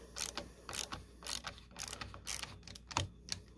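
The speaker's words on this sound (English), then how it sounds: "Ratcheting meaning I don't have to take my hand off of the screwdriver to re-grip." A ratcheting screwdriver turns a screw while a Winchester 94 rifle is taken apart for cleaning, giving quiet, close rapid clicking bursts repeated in a steady back-and-forth rhythm.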